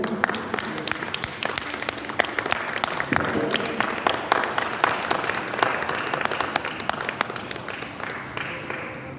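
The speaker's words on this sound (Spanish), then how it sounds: "Te pido que le des un aplauso al Espíritu Santo." A church congregation at a healing campaign in Celaya, Mexico applauds, sustained crisp clapping at steady volume with faint voices mixed in.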